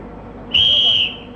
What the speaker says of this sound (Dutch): Dadelijk zal op het fluitsignaal kan er gestart worden met de speling.